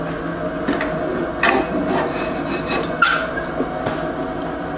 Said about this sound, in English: So I've got my half inch bit and my Jacob's chuck. I'm going to slow the lathe way down.